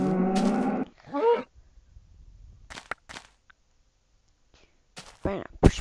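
A cartoonish cow moos in the video game Lucky Cow, a loud opening moo followed by a shorter one, then quiet clicks and another short moo near the end.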